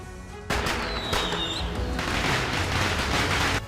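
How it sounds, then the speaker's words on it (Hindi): A sky shot firecracker going off on the roof of a moving car during Diwali in Morena, Madhya Pradesh: a sudden loud blast, then a whistling rise and a sustained crackling roar of bursts that cuts off abruptly. "कार की रूफ पर स्काई शॉट पटाखा जल रहा है"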